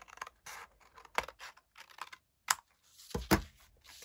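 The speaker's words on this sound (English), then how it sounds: "I'm just going to use scissors." Scissors cut across the bottom of a sheet of paper for a watercolour and pen autumn artwork, a series of short, close, crisp snips and rustles with pauses between them, no talk.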